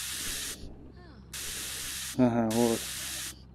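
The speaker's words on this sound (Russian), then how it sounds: "Спрей, healing spray is limited use." A healing spray in the VR survival game SURV1V3 hisses in three sharp, loud bursts separated by short pauses, and someone speaks briefly between them.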